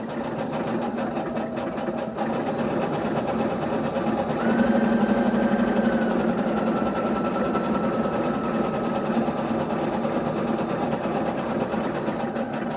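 Brother CS5055 sewing machine stitching a pillowcase, a close, continuous rapid mechanical whir and rattle that holds steady and shifts slightly in tone partway through, with no talking.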